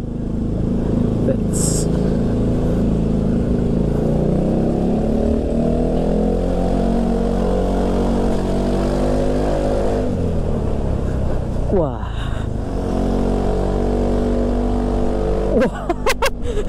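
A motorcycle engine drones loudly during a road test ride, holding a steady pitch, then dropping and climbing again as the rider accelerates, with someone talking over it.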